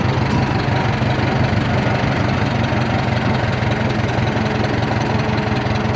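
A 1947 Farmall M tractor engine, freshly rebuilt, idles steadily and close by with a deep, even low-pitched rumble that holds unchanged for the whole stretch, with no talk over it.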